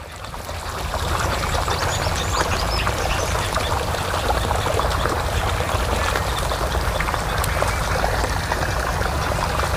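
Water gushing from a 3 HP borewell motor pump on a plantation, a loud, continuous rushing and splashing flow with no one talking.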